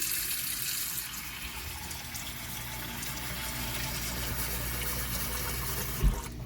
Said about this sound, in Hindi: तो सबसे पहले मैं इसमें डालूँगी पानी